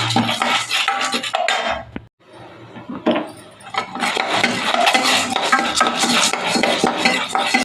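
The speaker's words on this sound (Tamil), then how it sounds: "அடுத்தது உளுத்தம் பருப்பு வறுத்துக்கலாம்." Urad dal is dry roasted in a pan for idli podi, with a spoon scraping and clinking against the metal in uneven bursts, pausing briefly before the stirring resumes.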